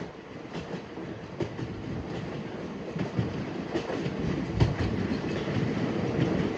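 A Mysore to Renigunta superfast express train running steadily, with continuous rumbling and rhythmic clickety-clack of wheels over rail joints, heard close from on board with no voices.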